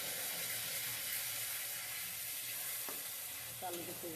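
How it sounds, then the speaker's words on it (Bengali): Tengra fish masala frying in a pan, a continuous soft sizzle with occasional scraping stirs and a few light clinks near the end. "আর একটু নেড়ে চেড়ে কষিয়ে নেবো ভালো করে।"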